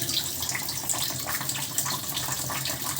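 Tap water runs steadily into a sink while a paintbrush and paint bowl are rinsed, a constant close hiss of flowing water with light splashing throughout.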